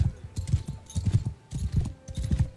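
Horse hooves clip-clop in a steady walking rhythm in Mount and Blade II: Bannerlord, several close, clear paired knocks spread evenly across a short stretch with no speech.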